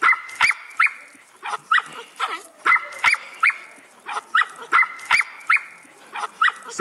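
A puppy barks in quick, repeated yips and bow-wows, coming in short bursts of two or three with brief gaps between, as played back from a video.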